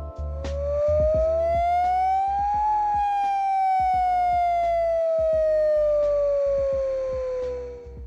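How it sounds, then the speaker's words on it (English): Hawaii's new attack warning siren tone sounds as a loud wailing tone that climbs over about three seconds and then slowly falls, continuing for about eight seconds. "the new tone is the attack tone"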